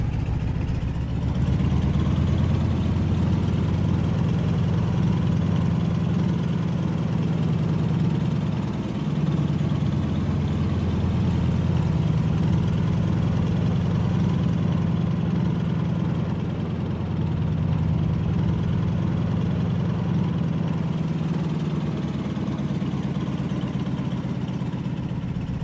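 The Boeing PT-17 Stearman's radial engine idles in a flight sim, a steady, loud low drone that holds unchanged for the whole stretch, with no voices over it.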